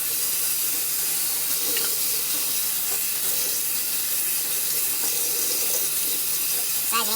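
Tap water runs steadily into a sink during a hair wash routine, a constant broadband hiss with no break for about seven seconds, fairly close and loud.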